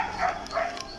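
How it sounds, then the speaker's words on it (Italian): A dog barks twice in quick succession, moderately loud against a steady hiss of background noise, with no one talking over it. "C'è un cane che abbaia"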